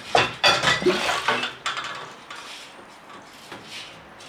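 Sterilized glass jars clink and knock together up close, a quick run of sharp clatters first, then quieter handling noises.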